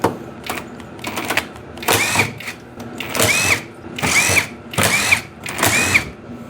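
A power tool removes the cylinder head from a Snapper snowblower engine in a series of short, whirring bursts, about six in all, close by and separated by brief pauses.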